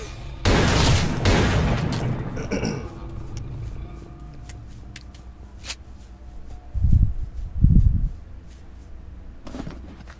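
Grenades go off in STALKER: Call of Pripyat with the Misery mod: a loud, rumbling blast at the start that fades out. Two more muffled booms follow a few seconds later, with scattered clicks between them.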